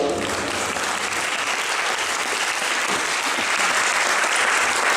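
Guests at a French wedding reception keep applauding, a thick, even wall of clapping that holds at steady volume throughout with no talk over it.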